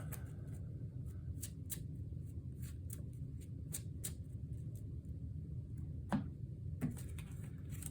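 Cards shuffle in the Drawing Dead video game as a series of quiet, crisp riffling clicks in a steady, uneven rhythm over a soft low hum, with no talking.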